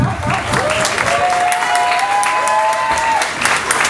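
An audience at a Florange event bursts into sustained applause, dense and even for a few seconds, with tonal music or feedback lines running faintly through the clapping.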